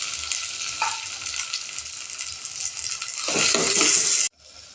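Tomatoes, shallots and green chillies sauté in a pan for a mango sambar, a steady close sizzle that swells louder near the end before cutting off abruptly.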